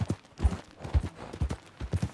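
Horse hooves clip-clopping in Red Dead Redemption 2: a steady, close four-beat rhythm of dull thuds repeating evenly at a brisk pace, with no talk over them.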